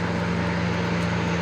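An International truck with a Detroit diesel engine labors up a hill under load, a steady droning engine hum with a strong low tone, continuous and fairly close, with no talk over it.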